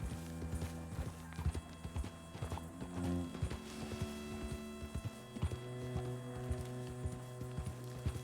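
Steady clip-clop of horse hooves at a trot in the video game Red Dead Redemption 2, rhythmic and continuous, over a droning hum with a faint whinny-like tone.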